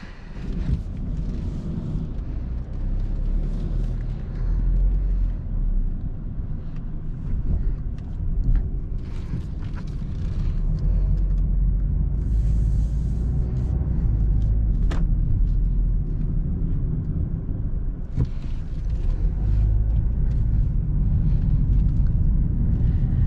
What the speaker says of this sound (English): if you do hear a little bit of wind noise or cabin noise